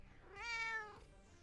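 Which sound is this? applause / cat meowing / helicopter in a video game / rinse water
cat meowing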